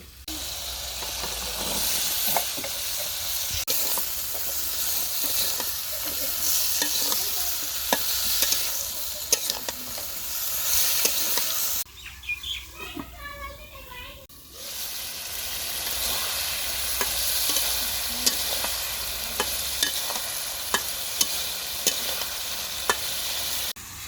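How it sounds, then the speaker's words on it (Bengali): Vegetables are stir-fried in spice masala for a fish curry, with a loud, continuous sizzle and frequent sharp scraping clicks of stirring, broken by a short, quieter pause partway through. "সবজিটা ভালোভাবে কষে নিচ্ছি"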